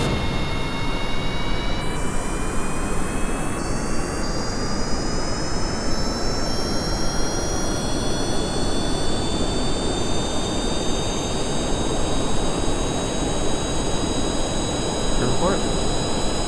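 A jet aircraft takes off from a flat runway in Kerbal Space Program: a loud, steady roar with a high turbine whine that rises in pitch throughout, alone with no talking.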